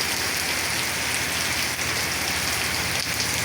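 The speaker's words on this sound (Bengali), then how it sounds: "এই যে প্রচণ্ড পরিমাণ বৃষ্টি নিয়মিত হচ্ছে।" Downpour of heavy rain at a factory near the Baradi bazaar, a thick, unbroken roar of drops drumming on surfaces, close and loud throughout with occasional sharper splats and no talking.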